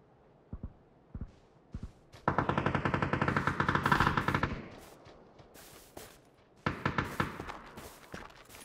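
Sustained machine-gun fire from a heavy barrel weapon in a squad-based shooter game, a dense rapid burst lasting a couple of seconds, then a second shorter burst, with a few single distant shots before, heard at a distance.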